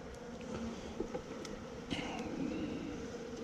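Wild-hive bees just moved into a nuc box give a faint, steady buzz with a few louder passes of single bees flying close, soft and continuous.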